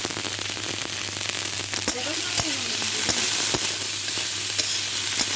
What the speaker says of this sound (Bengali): 2 থেকে 3 মিনিট আমি ভেজে নেব।